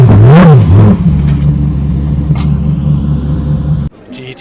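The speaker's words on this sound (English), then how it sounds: "I'll finally be able to hear that 20B rotary scream again." A Mazda 20B rotary-engined race car at a track revs loudly nearby, its pitch sweeping up and down in the first second before a steady droning engine note continues, then cutting off abruptly near the end.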